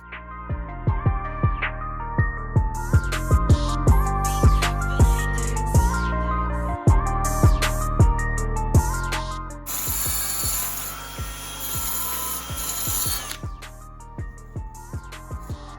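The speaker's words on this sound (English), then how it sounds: "It's just a wire wheel and a power drill." A power drill spins a wire wheel against an old alternator's metal housing, giving a steady whirring grind with rapid scraping clicks. Partway through it turns into a harsher hiss.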